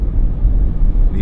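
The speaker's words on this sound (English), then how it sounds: "Nice Mercedes-Benz is just coming up beside us now." A Mercedes-Benz car pulls up alongside on a New Zealand road, heard as a loud, close, continuous low engine and road rumble through the short stretch.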